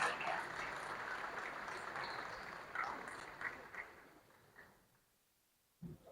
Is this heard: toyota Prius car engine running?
no